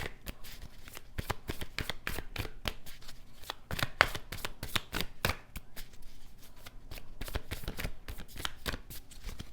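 Tarot cards are shuffled by hand in a fast run of crisp riffling flicks and slaps, close and steady throughout, with no talk.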